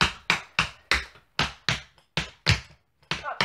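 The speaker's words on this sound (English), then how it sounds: "You're gonna go into your time steps. So your time steps will start on your right foot. They will be triple time steps." Tap shoes strike a floor in a lesson's triple time steps, starting on the right foot: sharp percussive taps fall in quick, even groups, close and crisp with brief pauses between clusters, and no one speaks.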